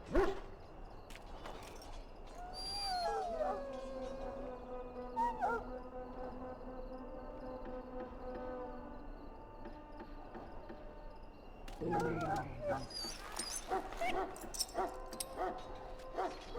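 A wounded dog in a fantasy video game, set at Ostagar, whimpers and yips in several high, drawn-out whines, with short barks at the start and end over faint cricket-like ambience.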